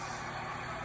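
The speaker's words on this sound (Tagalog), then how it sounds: "That's a London bus." A London bus idles close by with a steady, loud rumble and a broad hiss that could be its air brakes, all in under a second with no talk.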